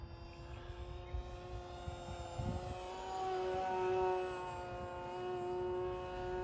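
A small electric motor on an E-flite SE5A 900mm radio-controlled model biplane drones steadily with a high whining buzz, its pitch rising and swelling louder midway before easing off slightly.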